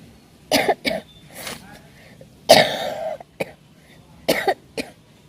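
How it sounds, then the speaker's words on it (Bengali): A woman with a lingering cold coughs several times on a breezy rooftop, short harsh bursts in small clusters separated by quiet pauses, close and clear. "কাশিটা এখনো কমেনি বন্ধুরা"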